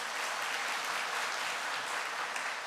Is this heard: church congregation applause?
yes